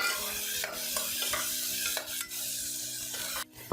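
Green chili and tomato sauté in a pan, a steady close sizzle running throughout with repeated stirring scrapes and a few brief dips in the frying noise.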